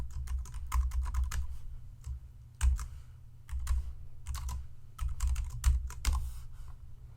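Someone types on a computer keyboard in quick bursts of close, crisp key clicks, pausing briefly between flurries, with no talking.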